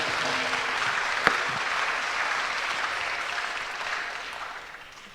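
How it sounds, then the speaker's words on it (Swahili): An audience at a Kenyan political gathering applauds an honoured guest with sustained, dense clapping that holds steady and slowly fades toward the end, with no speech over it. "tupigie mheshimiwa makofi mazuri"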